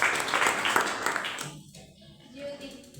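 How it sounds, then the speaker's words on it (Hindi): A classroom audience claps for a girl student during a talk on yoga, a short burst of applause that fades after a second and a half into quieter room sound. "ताली बजाओ बिटिया के लिए।"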